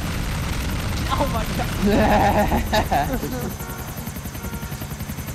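Helicopter in GTA Ballad of Gay Tony online gameplay: a loud, steady rotor chop throughout, with bursts of gunfire in the middle and a player shouting over it.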